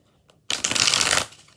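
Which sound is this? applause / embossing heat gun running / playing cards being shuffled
playing cards being shuffled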